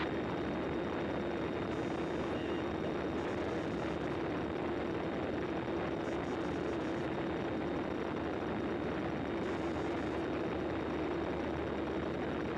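A twin-engine Cessna 300 cruises at 10,000 feet, its engines giving a dense, constant droning roar heard from inside the cabin, steady and unbroken throughout.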